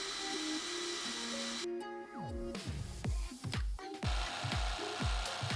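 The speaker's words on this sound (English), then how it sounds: "This simple window for the power supply is simply cut using a jigsaw" A jigsaw cuts a window for a power supply in birch plywood, giving repeated buzzing, rasping strokes that start and stop in short bursts, close and fairly quiet.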